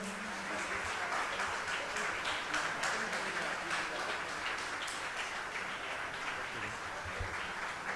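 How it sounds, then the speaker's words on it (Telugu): Audience applause at a church consecration ceremony in Visakhapatnam, steady crowd clapping throughout, heard faintly with voices mixed in. "గట్టిగా చప్పట్లు కొడదాం."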